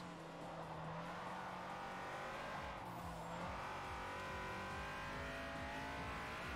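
A Honda Civic in the racing game Forza Motorsport 4 drones steadily at speed, its engine note shifting as it brakes, with a faint tire squeal from locking brakes, heard alone at low volume.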